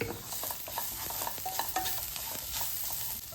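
Capsicum and cabbage with salt being stirred in a pan, steady scraping and sizzling throughout with small utensil clicks, close and continuous, no voices.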